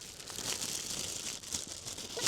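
Thin plastic foil sheet being fitted as a cover, crinkling and rustling continuously at close range with small crackling bursts, no talk.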